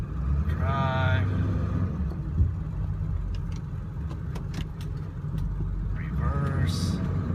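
A truck engine idles with a steady low rumble while being shifted between drive and reverse, heard close and continuous, with a couple of brief mechanical clicks and a person speaking over it.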